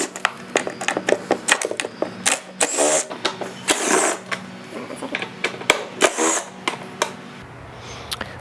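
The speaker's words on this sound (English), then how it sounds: "We're going to use a 10mm socket, and we're going to remove these 2 bolts and these 2 bolts here." Rapid ratcheting clicks from a 10mm socket wrench loosening the four seat bucket bolts on a Buddy Kick 125i scooter, close up, in quick irregular bursts with brief pauses between, no talking.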